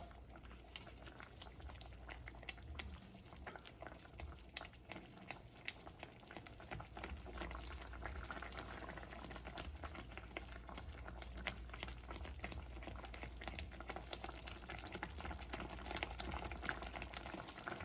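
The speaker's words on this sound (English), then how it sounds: "Just let it continue to bubble and melt and continue to stir" Cheese sauce for blackened salmon pasta bubbling in a pan on medium-high heat while being stirred, a soft steady stream of small pops and bubbling, faint and close, without speech.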